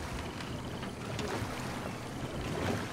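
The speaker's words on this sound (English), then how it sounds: "A paddle steamer, huh?" Broad watery rush and churn around a paddle steamer out on the water in Red Dead Redemption 2, with wind-like hiss under a steady, close wash.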